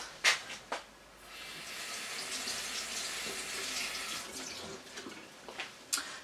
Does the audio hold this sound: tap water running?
yes